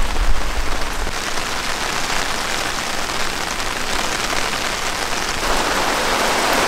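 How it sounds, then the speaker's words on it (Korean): Heavy rain pours down steadily at a campsite, a dense hissing wash of drops drumming on surfaces, loud and continuous with no voices. "빗소리 들으니까 좋죠, 여러분."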